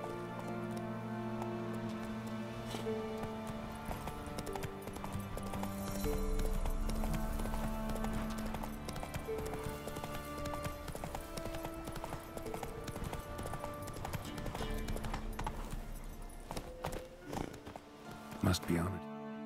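Horse galloping in The Witcher 3: Wild Hunt, with rapid rhythmic hoofbeats continuing under the game's orchestral music and a voice speaking over them.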